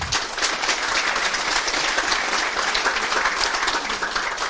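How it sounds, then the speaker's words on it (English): Dense, continuous applause from a crowd at the Nancy Murray Cup Final 2024 between Mayo and Wicklow, celebrating the Mayo team; loud and sustained without a break. "So a round of applause"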